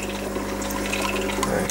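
Stiff syringe drawing up water containing young brine shrimp, a steady close liquid gurgle and suction with a faint low hum underneath, no talking.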